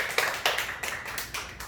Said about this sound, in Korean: 영광의 박수 하나님께 돌리고